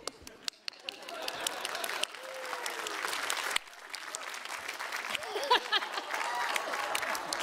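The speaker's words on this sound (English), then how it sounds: "Clap louder, he'll hide more." Live audience at a Dice, Camera, Action tabletop game show breaking into applause, clapping and crowd noise building steadily and staying loud, with people talking over it.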